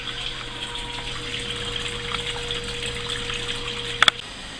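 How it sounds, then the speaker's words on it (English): Wort coming to a boil in a homebrew kettle, a steady rushing bubbling hum with a couple of sharp clanks near the end, no voices. "starting to bubble away nicely here"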